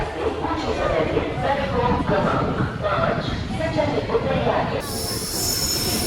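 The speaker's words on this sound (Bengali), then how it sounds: "আমাদের ট্রেন চলে এসেছে।" A Kamrup express train pulls into New Cooch Behar station with loud, high metallic wheel squeal over rumbling carriages and clatter, continuous and close, with people talking underneath.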